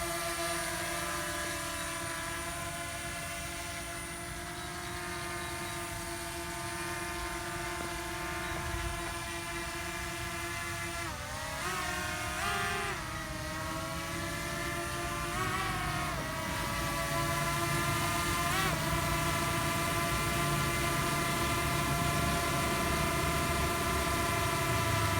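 An Eachine X5 GPS brushless drone, a Mavic clone, flies just before landing. Its motors keep up a loud, close, steady whine, and the pitch bends and wavers several times as it maneuvers.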